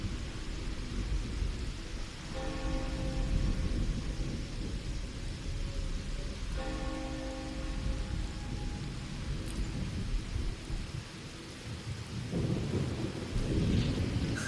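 Steady rain with rumbling thunder in the video game Wuthering Waves, a dense, continuous downpour wash with deep low rolls swelling throughout and a heavier burst near the end.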